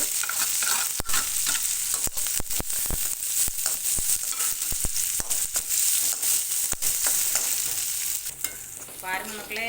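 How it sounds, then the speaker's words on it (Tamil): Chopped onion, garlic and green chillies sautéing in a pan for a ponnanganni keerai (spinach) stir-fry, a steady close sizzle broken by frequent scraping stir strokes. "இதில் வெங்காயம், வெள்ளைப்பூடு, பச்சை மிளகாய் பொடிசாக நறுக்கி வச்சுருக்கேன். இதை போட்டு நல்லா வதங்கட்டு."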